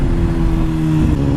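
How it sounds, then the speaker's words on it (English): A 2014 BMW S1000RR HP4 motorcycle shifts into third gear with its auto blipper, its engine a loud, steady, close drone throughout with no separate blip standing out. "I put myself in 3rd gear with that auto blipper"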